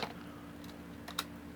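A few faint keyboard keystrokes click over a low steady hum, sparse and quiet.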